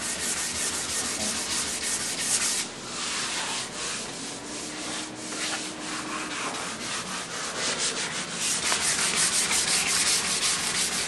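Sanding a varnished wooden floor flush, a continuous dry abrasive rasp with rhythmic back-and-forth strokes, close and steady for the whole stretch, with no voices.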